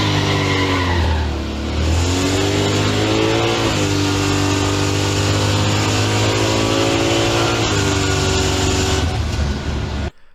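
A turbo LS Fox Mustang launches hard on a drag strip, tires spinning and squealing as the engine howls upward, shifts, and keeps pulling loudly for several seconds before cutting off abruptly at the end.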